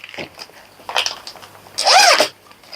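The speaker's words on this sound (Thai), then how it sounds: "ซองเขาจะมาเป็นซองซิปแบบนี้นะครับ" The zipper on the case of a Toshino electric mosquito swatter racket is pulled in a few short rasping bursts, with the longest and loudest pull near the end. The zips are close and clear, with no talking.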